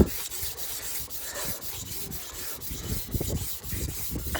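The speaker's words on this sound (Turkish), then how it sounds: "o çizikleri alan normal bir zımparayla usul usul usul usul" Sandpaper rubs by hand over a car's painted body panel in slow, repeated back-and-forth strokes, a close, dry, gritty scraping.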